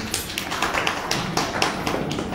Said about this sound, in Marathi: तर सर्वात एकदा जोरदार टाळ्या आपल्या लाडक्या डीजींसाठी